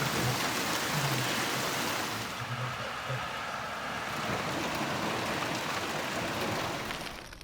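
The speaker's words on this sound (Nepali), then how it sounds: "बेलायतमा ठूलो असिना पानी पर्यो जसले जनजीवन ठप्प पार्यो" Heavy hail and rain falling during a storm in Britain, a dense, steady roar of impacts that stays loud from start to finish, with no voices.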